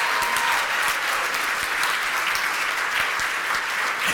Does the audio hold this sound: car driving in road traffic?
no